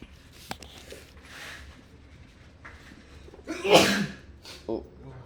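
A single sharp sneeze bursts out partway through, close and fairly loud, among quieter background noises and some speech in the room.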